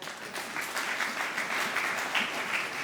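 A church congregation claps and cheers together, a full, steady burst of applause that swells slightly and stays loud from start to finish.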